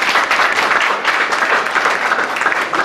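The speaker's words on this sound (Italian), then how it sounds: "Un applauso" Applause from the audience at a literary prize ceremony honoring the regional language councillor, a dense, steady wash of many hands clapping close and loud throughout, with no speech over it.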